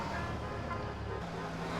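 Steady road traffic from the video game GTA San Andreas: a continuous low rumble of passing cars and engines with a constant wash of noise and no distinct horn blasts.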